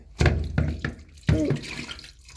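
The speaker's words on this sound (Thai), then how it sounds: "เปิดน้ำนี่ก่อน" A water tap is opened, giving a few splashy bursts of running water and knocks in a sink, close by and fairly loud with no talking.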